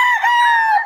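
A rooster crows loud and close at a Bocaue market, one sustained, slightly wavering call lasting under a second, heard alone.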